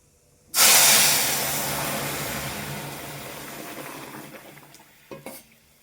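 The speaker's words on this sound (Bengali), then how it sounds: "এখন নামিয়ে সর্ষে আর শুকনো লঙ্কা দিয়ে ফোড়ন দেবো" Mustard seeds and dried red chilies dropped into hot oil to temper boiled dal, bursting into a loud, sudden hissing sizzle that slowly fades over several seconds, ending with a couple of brief metallic clinks, close up with no voices.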